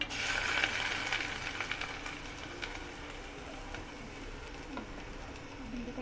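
Finely chopped onion fries in oil with mustard seeds and cumin, giving a faint, steady sizzle and light crackle with occasional small spatters, no voices.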